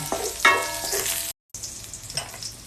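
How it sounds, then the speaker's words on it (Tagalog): Garlic sautés in hot oil with a steady sizzle, punctuated by a few sharper crackles and stirring scrapes, cut off by a brief gap before the frying resumes more softly. "Gisa lang natin yung bawang."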